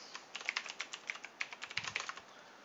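Quick, fairly close typing on a computer keyboard while connecting to a Red Hat 7 virtual machine, an irregular burst of crisp key clicks with no talking.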